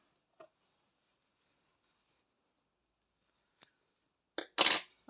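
Small scissors snip a sewing thread while finishing a handmade cushion cover, a few sharp, brief clicks and cuts close up in an otherwise quiet room, ending with a louder burst of rustling snips.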